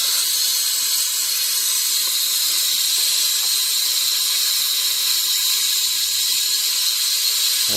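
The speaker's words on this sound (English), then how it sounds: "I used a 1/2-inch ratchet" A 1/2-inch ratchet works the fill plug on a power transfer unit (PTU) during a fluid change, giving a steady, fast run of fine clicking that holds at an even level for the whole stretch with no talk.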